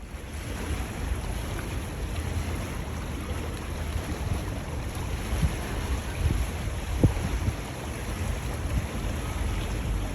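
A river cruise ship leaving Dusseldorf, turning a full 180 before heading off, with a steady rush of water and wind washing past the balcony, a continuous broadband roar with a few brief knocks.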